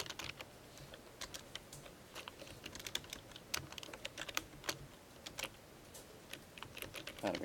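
Fingers type steadily on a computer keyboard nearby, producing a continuous run of quick, light key clicks with small irregular bursts and no speech.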